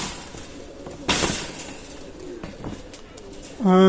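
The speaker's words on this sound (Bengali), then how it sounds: "চমৎকার বেবি কবুতর দেখাবো" Baby pigeons in a pigeon loft coo softly amid background noise, with a clearer low cooing call at the very end and a brief burst of rustling near the middle.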